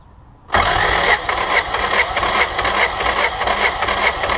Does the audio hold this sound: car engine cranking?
yes